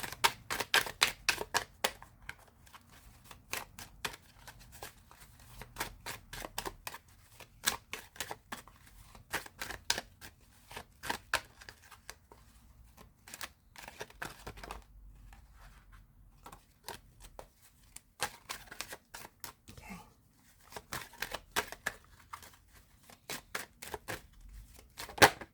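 Tarot cards shuffled in repeated quick riffling bursts with short pauses between them, close and crisp, with no talking.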